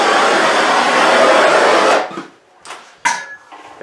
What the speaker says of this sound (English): give one more hit of heat to seal everything up here